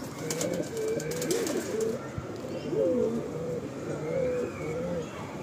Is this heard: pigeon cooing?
yes